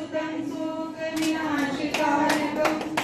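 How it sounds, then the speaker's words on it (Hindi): Audience clapping at a Marwari women's association event in Asansol, a scattered burst of hand claps that builds after a second and continues over a faint background murmur. "ताली अगर जोर से हो गई।"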